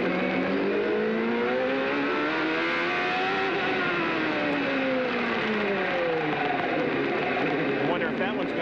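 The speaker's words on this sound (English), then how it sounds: "Listen to Michael's gearbox." A 1995 CART IndyCar race car at the Australian Grand Prix roars past with a whining, rough-sounding gearbox, its engine pitch rising and falling continuously under a commentator's voice.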